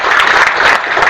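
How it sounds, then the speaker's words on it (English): A lecture audience claps together in a short burst, a dense, loud wash of hands that holds steady without letup. "please clap"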